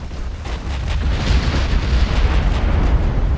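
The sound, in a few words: warship explosion blowing off a turret, from video game Ultimate Admiral: Dreadnoughts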